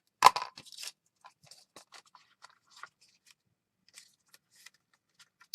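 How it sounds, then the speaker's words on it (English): Scissors snip through journal paper at an angle with a quick burst of crisp cuts up front, then a scattering of faint, sparse snips and paper rustles at close range. "I'm just going to cut this at an angle and cut this one at an angle"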